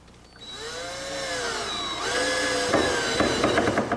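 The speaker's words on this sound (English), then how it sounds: "Be sure to drill pilot holes in the countertop before securing it." A power drill bores pilot holes into a kitchen countertop during an IKEA kitchen installation, its motor whining and rising in pitch as it spins up, then bites into the material with a rougher grinding burst near the end.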